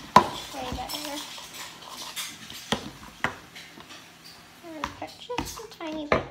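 A utensil clacks and scrapes against a bowl in irregular taps while sticky slime is stirred and mixed, with a child chatting intermittently over the sharp clinks.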